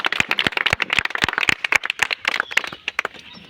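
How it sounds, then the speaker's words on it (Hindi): Audience clapping rings out at a political party gathering in Raghopur, Vaishali, to welcome a newly appointed block president: many sharp, close hand claps in a brisk, uneven flurry that gradually thins toward the end. "चलिए जोरदार तालियों"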